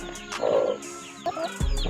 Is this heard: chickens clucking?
yes